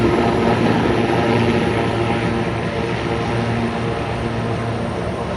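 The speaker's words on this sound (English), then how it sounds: "Helicopter landed." A helicopter passes overhead along Manhattan's West Side Highway in New York City, its rotor and engine drone loud and steady throughout and fading slightly toward the end, with city traffic noise mixed in.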